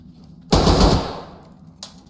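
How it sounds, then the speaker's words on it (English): Automatic gunfire in the tactical shooter game Ready or Not: one loud, close burst of rapid shots lasting about half a second, then a quieter single crack a moment later. "And they're still shooting behind us."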